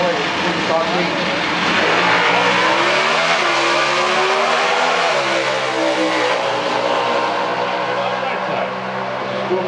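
Hemi-powered Super Stock drag race cars at an NHRA event in Indy roar and accelerate down the strip, a loud, sustained engine snarl with rising and shifting pitch, while an announcer's voice talks over it.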